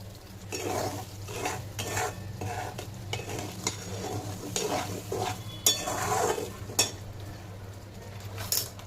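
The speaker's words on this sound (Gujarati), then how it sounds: "એટલે અહીંયા આપણો રવો શેકાવાની તૈયારીમાં થઈ ગયો છે." Semolina roasting in a pan for sheera, stirred steadily with a spoon that scrapes and clinks against the metal in irregular strokes over a soft sizzle and low background hum, no talk.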